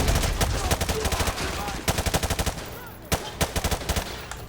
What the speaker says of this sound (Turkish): Koruma ateşi!